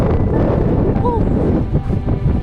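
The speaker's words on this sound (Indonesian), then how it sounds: "Kabut dan anginnya kencang sekali." Strong mountain wind on Mount Agung in Bali during a trail run, a loud continuous roar buffeting the microphone throughout with faint brief sounds underneath.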